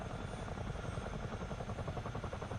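A helicopter in Microsoft Flight Simulator, likely a counter-rotating model, gives a steady loud chopping rotor beat with a continuous engine drone and no talking.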